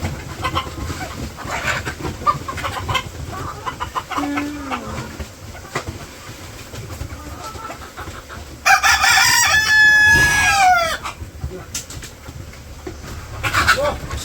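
Backyard village chickens cluck and a rooster crows loudly and close by, a long drawn-out crow standing out over the scattered hen clucks, with people talking nearby.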